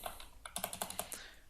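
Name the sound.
typing on a computer keyboard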